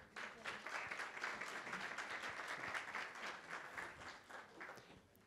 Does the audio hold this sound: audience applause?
yes